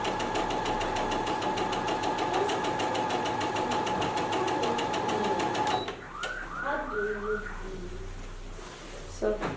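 A home sewing machine runs steadily, stitching straight lines in a fast, even mechanical rattle for about six seconds, then stops, and a person talks briefly afterward.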